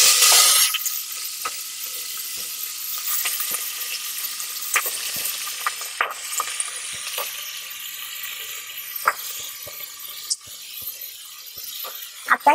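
Mutton pieces dropped into very hot oil with whole spices and bay leaf for Kolhapuri white rassa, giving a loud, steady sizzle and crackle with scattered stirring clinks throughout.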